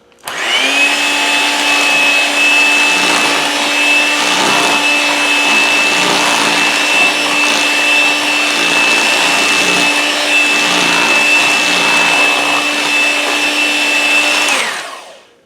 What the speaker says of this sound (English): now we are done with the mixer.